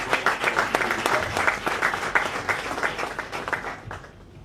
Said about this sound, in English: Could we please give a round of applause?